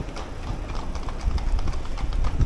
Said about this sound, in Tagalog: Nakawala yung mga kabayo.